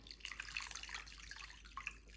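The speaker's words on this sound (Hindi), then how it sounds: "खुश्क मशरूम, इनमें गर्म पानी डाल लेते हैं।" Hot water poured over dried mushrooms in a bowl, a faint, brief trickling and splashing close by.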